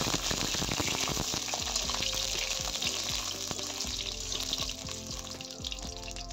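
Lentil dumplings (bori) frying in hot mustard oil in a kadai, a steady close sizzle with crackling pops and occasional stirring scrapes throughout, no voices.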